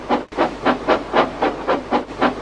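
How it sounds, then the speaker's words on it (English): A steam engine with a broken valve gasket leaks steam in loud, rhythmic hissing chuffs, about nine regular bursts across a short stretch, close and alone with no voices. "If the valve gasket breaks, the engine loses steam and is stranded."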